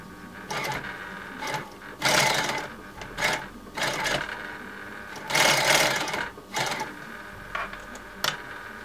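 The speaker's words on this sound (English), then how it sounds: "This is what's called a feller machine. In other words, I'm hemming the bottom of the curtain." A feller sewing machine hemming the bottom of a curtain whirs in short, loud bursts, stopping and starting in an irregular rhythm at close range, with no talking.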